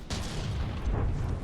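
16-pounder naval cannons fire in a sailing-ship combat game, a dense rolling roar of booming shots, loud and sustained across the moment with no voices.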